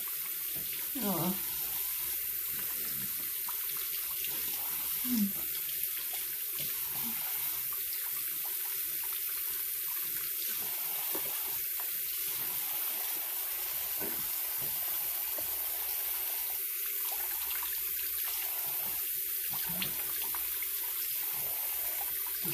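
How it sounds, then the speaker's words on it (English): A bathroom sink tap runs steadily while someone rinses their face with cold water, giving a continuous, fairly close hiss of flowing water with occasional splashes over roughly twenty seconds. "Just rinse it with some cold water now."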